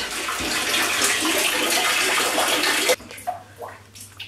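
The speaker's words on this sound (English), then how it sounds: "I just turned the water off for now" A tap runs hard into a bathtub, a loud steady rush of water lasting about three seconds before it is shut off, leaving faint drips and small bathroom noises.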